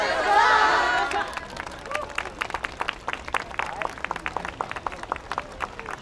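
Audience applause at an outdoor yosakoi dance event in a plaza: a brief swell of crowd noise and cheering, then scattered, uneven clapping that carries on steadily at moderate volume.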